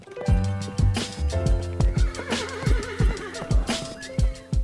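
A horse ridden hard and fast under a setting sun lets out a loud, close whinny over a quick, pounding run of galloping hoofbeats.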